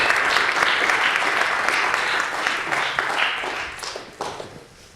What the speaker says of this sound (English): give Mr. Khalik Allah a round of applause